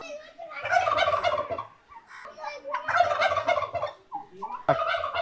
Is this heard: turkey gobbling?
yes